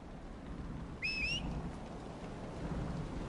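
Steady rain and storm wash fill a scene in Dragon Age: Inquisition, a constant broad hiss with low rumble, and a brief whistling bird-like call rising over it near the start.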